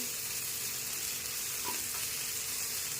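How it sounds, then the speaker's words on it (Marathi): Garlic, ginger and green chili frying in a spoonful of oil for veg momos, giving a steady, soft sizzling hiss that runs evenly throughout, with a faint click at the end. "ती 1 चमचे तेलामध्ये फ्राय करून घेणार आहे।"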